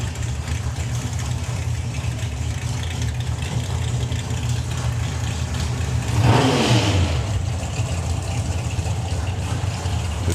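A Super Pro drag racing car's engine drones at a drag strip, with a steady loud rumble throughout. Partway through it swells into a brief rising rev before settling back.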